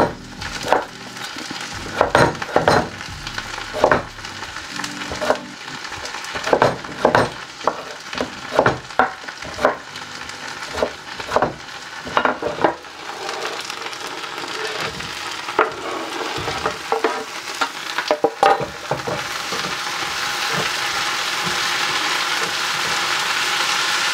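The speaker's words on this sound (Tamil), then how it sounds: "பச்சை வாசம் போகிற வரைக்கும் வதக்கணும்." Tomatoes sautéing in a pan for peanut chutney, a steady sizzle building through the stretch with repeated scraping stir strokes of a spoon against the pan, close and fairly loud, with no talking.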